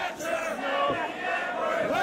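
A wrestling show crowd roars and chants in a large arena, a dense, sustained wall of cheering voices with rising and falling shouts and no clear commentary on top.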